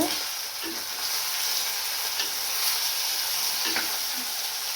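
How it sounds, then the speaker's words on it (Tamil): Fish frying in a pan with salt sizzles steadily and loudly while being stirred, with occasional soft scrapes from the stirring. "இதுக்கு வந்து தேவையான அளவு உப்பு போட்டு விடுவோம் போட்டுட்டு வடிவா கிளறிட்டு"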